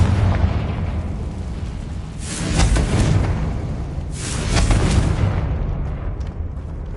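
Two heavy magical fire blasts from the Confringo spell in Hogwarts Legacy burst about two seconds apart over a steady rumbling game soundscape, each a loud, broad whoosh that swells and then fades.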